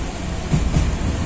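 A train pulls into Sealdah station with a loud, continuous rumble and rattle of carriages close by, filling the whole short stretch without any voices.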